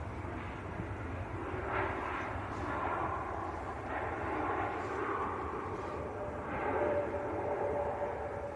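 A Boeing 787 Dreamliner rumbles through its takeoff at Manchester Airport, a broad, distant jet roar that swells and fades gently with no talk over it.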